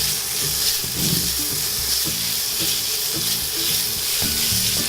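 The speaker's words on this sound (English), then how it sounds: "I'm gonna take my bacon and start cooking it so I could" Bacon strips sizzling and crackling steadily in a pan as their fat renders, with a dense, continuous high hiss, close and fairly loud, with low knocking sounds now and then beneath it.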